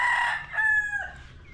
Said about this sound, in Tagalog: Quality yung manok niya.